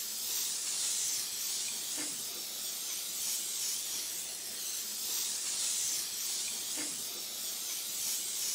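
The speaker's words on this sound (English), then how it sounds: "spraying this pan with cooking spray for like 30 minutes" Cooking spray hisses onto a pan in a long, continuous aerosol spray, steady and fairly loud with a few faint knocks underneath.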